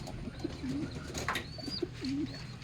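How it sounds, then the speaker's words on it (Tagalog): A pigeon coos softly in repeated low rolling notes, with faint chirps from other birds in the background. "ito naman yung aking alagang kalapati guys, ayan."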